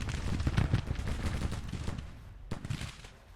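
Massed musket volleys crackle in a Civil War battle in the strategy game Grand Tactician: The Civil War, dense overlapping shots rolling at moderate distance, thinning out then a fresh burst.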